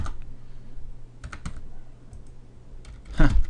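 Scattered computer keyboard key presses and clicks while working in Blender, a few taps spread out and then a louder cluster of clatter near the end, over a low background hum.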